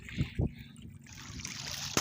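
Seawater pours into an aquarium in a steady, soft hissing stream after a couple of brief splashy knocks, fairly close and moderately loud.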